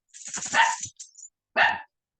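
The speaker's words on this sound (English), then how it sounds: "Sorry, barking dogs." Dogs bark in a short burst of several quick, loud barks, then pause before one more sharp bark close by.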